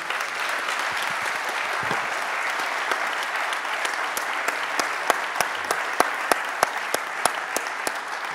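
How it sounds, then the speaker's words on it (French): Applause for a team's members rings out steadily, a dense wash of many hands that grows into sharper, distinct claps toward the end. "Donc peut-être faire un, un applaudissement pour les membres de l'équipe."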